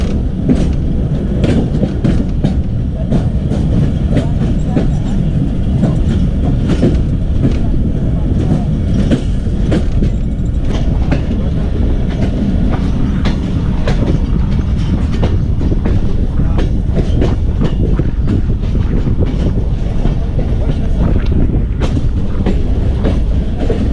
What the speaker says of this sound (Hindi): अभी शिकारपुर रेलवे स्टेशन है उस पर एंटर हो रही है ट्रेन।